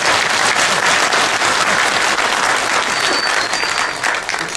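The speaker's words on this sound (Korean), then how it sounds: "박수하는 것도 힘드니까 모았다가 끝에 한 거예요" A large audience at a Korean political talk claps loudly and continuously, a thick, sustained roar of applause that holds strong before easing slightly at the end.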